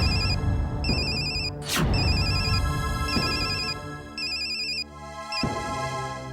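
Telephone ringtone repeating in short electronic bursts over background music, a tense call back going unanswered in a Hindi TV serial, steady and fairly loud with brief gaps between rings.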